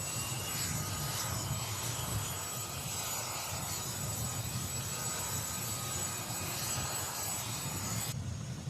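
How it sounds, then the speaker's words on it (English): A CH-47 Chinook military helicopter with two turboshaft engines, a steady, loud, continuous engine and rotor roar with a deep low rumble and high whine, holding constant throughout. "The CH-47 is powered by 2 turboshaft engines, mounted on each side of the helicopter's rear pylon and connected to the rotors by drive shafts."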